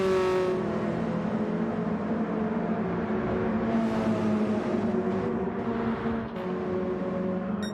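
Several race cars accelerate hard down Levant straight at Goodwood during a Mini Cup race, engines droning loud and steady throughout with overlapping rising tones as they run side by side.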